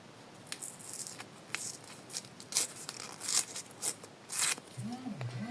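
Paper surprise packets being torn open nearby, with short bursts of ripping and crinkling that come in irregular spurts at fairly low volume, and a brief low voiced sound near the end.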